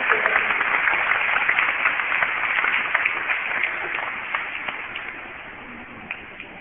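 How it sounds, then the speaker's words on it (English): Spectators at a dolphin show give a round of applause, a dense patter of many hands clapping at a distance that gradually thins and fades toward the end. "Let's give Matt a big round of applause and a big applause."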